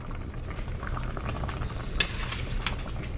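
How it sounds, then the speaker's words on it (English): A pot of water at a rolling boil on a kitchen stove, a dense close bubbling roar with a couple of brief metallic clinks of a utensil against the pot, no voices. "We got a good rolling boil going"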